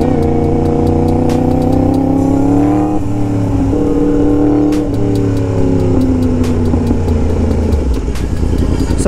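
A Yamaha MT-10 motorcycle engine revs loudly through its exhaust, holding a deep throbbing idle, rising and falling in pitch with several blips around the middle, close and continuous with no talk.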